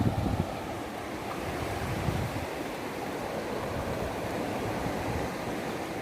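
Steady rushing surf washing in continuously on a rising tide, with wind noise buffeting the microphone throughout and no voices.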